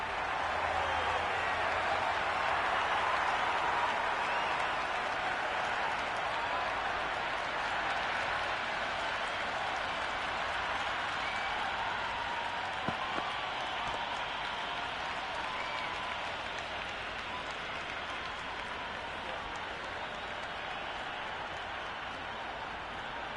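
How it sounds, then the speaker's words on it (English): Video game crowd in Cricket 26 during a T20 World Cup match between Zimbabwe and Australia, applauding after a wicket with a dense, steady roar of clapping that holds evenly for over twenty seconds at a distance, with no talk. "It's almost palpable, the excitement emanating from this crowd at the moment"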